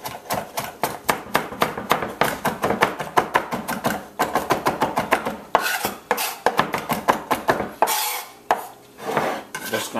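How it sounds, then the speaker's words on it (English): A knife rapidly chops parsley on a cutting board with a quick run of sharp taps, a short pause, then more bursts of chopping close by. "give that a rough chop."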